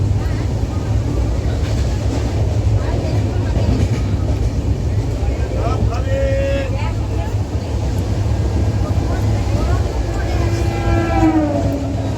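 A rumbling train passes close by, a steady heavy roar with a horn sounding faintly, while people talk nearby.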